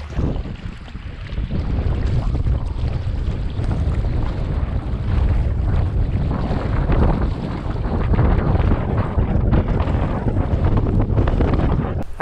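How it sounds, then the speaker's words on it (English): Strong wind gusts buffet the microphone on a lake in Algonquin as whitecaps roll in near a canoe, a loud, roaring rush that swells and surges continuously with no speech. "Started to get a little bit windy and white cap started to roll over."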